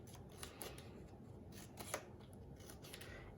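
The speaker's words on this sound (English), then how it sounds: "Keep your paper folded as you cut." Scissors cut through folded paper to make a paper sculpture, a series of faint, close, crisp snips spaced irregularly over a low background hiss.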